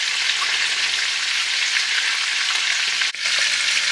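Eggs fry in oil in a pan with a loud, steady, crackling sizzle that continues without pause, close up and with no talk.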